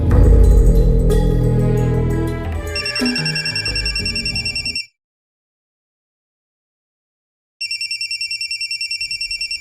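A cellphone ringtone sounds loudly and repeatedly: a busy musical passage gives way to a rapid, pulsing electronic ring, cuts off for a few seconds of silence, then resumes with the same steady pulsing ring.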